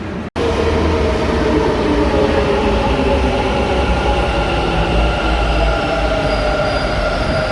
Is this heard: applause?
no